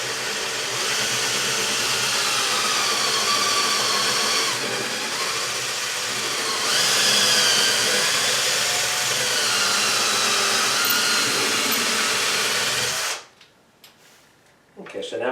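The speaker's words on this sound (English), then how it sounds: "now we've drilled through the cabinet all together" A power drill bores through a wooden cabinet, a steady loud whirring hum that rises briefly midway, then cuts off abruptly near the end.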